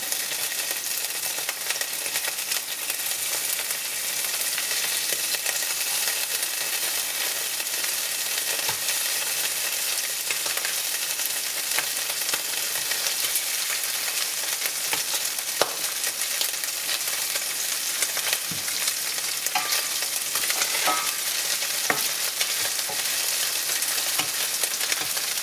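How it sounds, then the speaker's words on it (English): Meat frying in a pan for a Chinese chow mein, a steady bright sizzle running throughout with occasional scrapes and clicks from stirring, close and fairly loud, no talk. "while the meat is cooking. And we'll just give that meat a bit of a stir."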